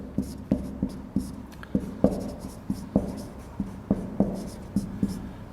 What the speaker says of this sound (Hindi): अब बड़ा एक सुंदर सा उदाहरण लिखते हैं